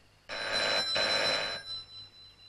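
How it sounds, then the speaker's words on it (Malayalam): A telephone rings during a stage play, two long electric bell trills in quick succession sounding loud and clear, followed by a fading echo in a quiet hall. "ഫോൺ അടിക്കുന്ന എങ്കി പറ"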